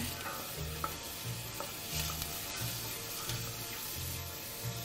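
Onions and garlic cooking in a pan for a Chinese dish, giving a steady low sizzle with soft rhythmic stirring scrapes and a few faint clicks, moderately quiet and close, without speech.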